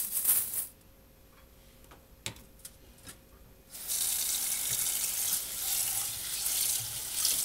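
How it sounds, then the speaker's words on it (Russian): Rice rinsed in a pot under a running kitchen tap: a loud, steady gush of water after a brief quieter spell of small clinks and ticks, close and with no talk. "Моем, моем, моем рисик."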